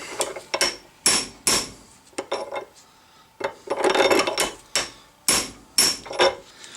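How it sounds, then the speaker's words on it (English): Sharp metallic hammer blows tapping a coarse-thread bolt held in a vise ring out in irregular bursts, some single and some in quick clusters, loud and close in a quiet workshop. "tapping it in with a hammer was the much faster, easier way"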